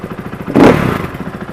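A KTM 500 EXC dirt bike fitted with a Fastway Pro Moto billet muffler endcap idles with a steady lumpy thump, then gets one short, loud blip of the throttle before settling back to idle, close up.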